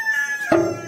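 A short rooster call, a brief bright crow cut off after a second, fairly close and loud.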